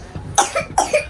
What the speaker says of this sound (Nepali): खोकी लगाएको छ साथीहरू मेरो छोरीलाई